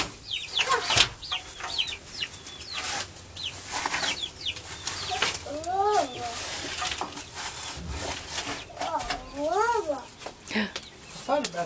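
Backyard chickens in their pen cluck in a run of short rising-and-falling calls, clustered in bursts near the middle and end, with people talking nearby.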